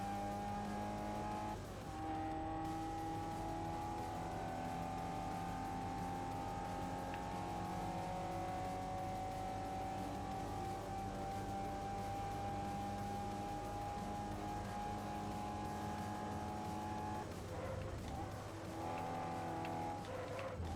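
Race car engines in Forza Motorsport 4, a sustained high engine whine holding through a long stretch, shifting pitch near the start and end with faint tire noise, steady and unvoiced.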